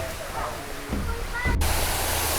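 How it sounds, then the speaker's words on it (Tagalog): Steady broadband rush of falling water filling the scene, loud and continuous, with brief handling noises over it. "Yan na yung waterfalls."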